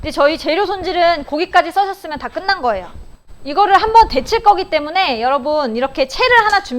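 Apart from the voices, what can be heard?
None of the usual background noises is heard.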